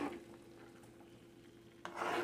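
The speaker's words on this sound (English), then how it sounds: "give it a little stir" Onion butter sauce simmering in a pan is stirred gently, a soft, quiet scraping and rubbing that builds into a brief louder swirl at the end.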